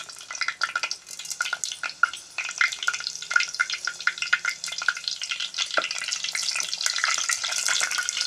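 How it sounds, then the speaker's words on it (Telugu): Green chillies hit hot oil in a home kitchen, setting off a close, uneven burst of crackling and popping spatters that keep coming with irregular loud snaps throughout. "ఆయిల్ హీట్ ఎక్కుతుందండి, పచ్చిమిర్చి చేద్దాం."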